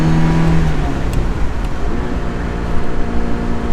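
Engine of a classic Ferrari or Porsche sports car cruising on an open road, a loud steady drone with rising tonal engine whine early and continuous road and wind noise, no voices.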